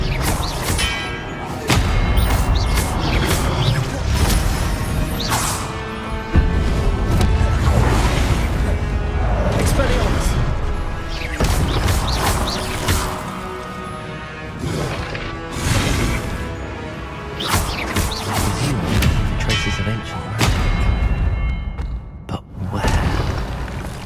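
Spell combat in the video game Hogwarts Legacy with an Expelliarmus disarming spell cast amid repeated loud magical blasts, crashes and thuds over a continuous game soundtrack, with no talk.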